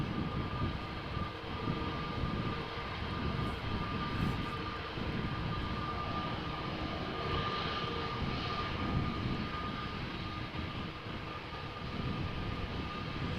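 Airliner jet engines roar steadily at Amsterdam Schiphol Airport, a continuous broadband rumble with a faint high whine, heard from a distance without talk.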